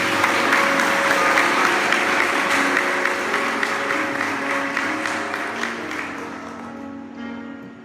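Audience applause at a church lecture welcoming a pastor, sustained dense clapping from a sizeable crowd that holds steady and then gradually thins and fades toward the end.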